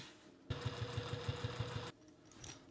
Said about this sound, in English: Let's go to the sewing machine.